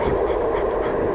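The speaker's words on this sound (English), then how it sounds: "I can hear Scully panting right now in my ear." Dog panting close to the microphone, a quick breathy rhythm of short huffs over steady rumbling background noise during a short moment.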